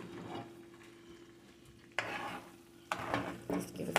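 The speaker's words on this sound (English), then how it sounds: "now I'm going to let that simmer a little bit and give it a little stir" Onion and chives simmering in butter sauce sizzle steadily in a pan while a utensil stirs in a few distinct scraping strokes, close and fairly quiet.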